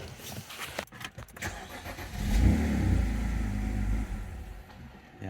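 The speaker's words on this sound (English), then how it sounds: "So let's see if I just start the car." A BMW engine cranks and catches, then runs rough for a few seconds with uneven, mid-pitched loud idling, recorded close with no talking.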